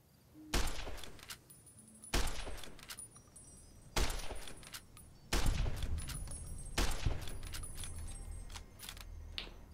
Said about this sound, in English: I'll take those sniper shots